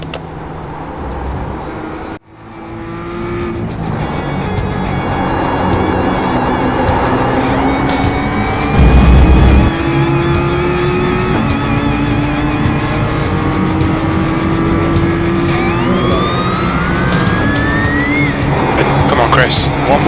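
Race cars lap Okayama in iRacing, engine notes climbing and dropping through gear changes with whining pitch sweeps and a brief rumble, while someone talks over the constant close engine noise.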